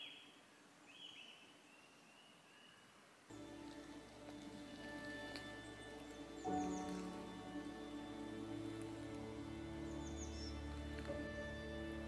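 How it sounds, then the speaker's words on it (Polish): Forest birdsong in the Niepołomice Forest, thin chirps and whistled calls rising over a soft rainy patter, then a steady drone and tonal hum joins and masks much of the faint, distant singing. "Jak i niezawodne w puszczy ptaki."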